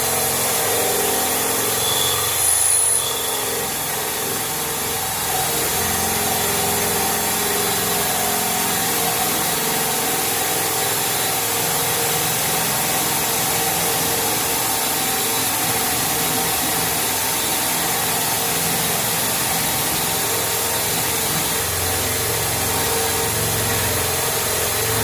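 A cordless drill runs continuously for a long stretch during kitchen renovation work, a steady loud motor whine with slight load changes and no talk.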